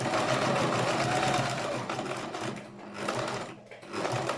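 A sewing machine stitching fabric for a homemade hat runs in a steady, fast whir, pausing briefly twice before starting up again close by.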